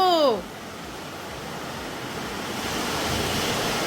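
Rain begins to fall with a broad, steady hiss that grows slightly louder toward the end, after a brief voice at the start.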